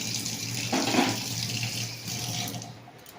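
A little water poured into a cooking pot, a short steady splashing stream close by that tapers off toward the end, no one speaking.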